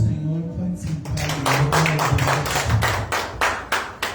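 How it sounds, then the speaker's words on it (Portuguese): A church congregation applauds after a call to praise the Lord, dense rapid clapping from many hands in a reverberant hall that swells after a brief murmur of voices at the start. "Aplauda ao Senhor, pode sentar."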